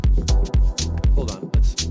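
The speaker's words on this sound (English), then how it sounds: "there's a clap with a really wide side thing" A clap sample with a wide stereo spread sits in a dense music track, hitting in a steady rhythm alongside heavy low drum beats and sustained synth tones, loud and up front.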